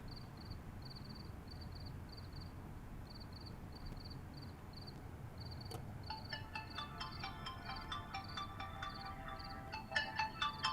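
A telephone rings with a repeating electronic ringtone in short paired bursts, quiet and steady against a low background hum, turning into denser, busier tones toward the end.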